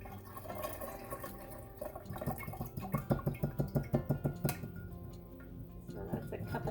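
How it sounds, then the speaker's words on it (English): Lemon juice poured slowly through a strainer into a glass jar, giving a trickling, splashing stream that builds into a quick run of rhythmic glugs before easing off, with a person speaking nearby. "I'm going to slowly pour in my juice"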